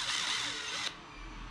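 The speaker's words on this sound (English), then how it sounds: "you're gonna need to grab that 32 or 3mm drill bit, and you're gonna run that through the center bore" A power drill spins a 3mm bit through the center bore of a 3D-printed shaft coupler for an RC outboard, a steady close whir that cuts off abruptly, leaving a quiet hum.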